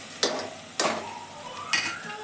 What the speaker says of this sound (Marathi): चला आता मी कांदा अजून थोडा भाजून घेते